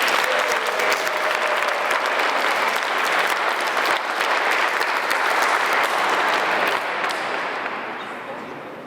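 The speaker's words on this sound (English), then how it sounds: "How about if we have one more round of applause for all of our wonderful honorees?" A large audience at an Italian-American Heritage Month event gives a sustained, loud round of applause for the evening's honorees, dense clapping filling the hall before tapering off near the end.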